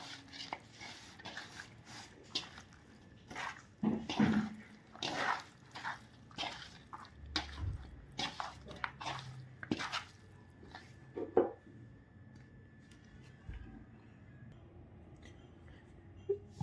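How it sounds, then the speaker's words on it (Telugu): Fish pieces being mixed by hand with chili powder, salt and masala: quiet, irregular wet squishing and tapping in a bowl, close and faint, with occasional clinks. "అన్ని చేప ముక్కలకు మంచిగా కారం, ఉప్పు, మసాలా అంతా పట్టేలా కలపాలి మంచిగా"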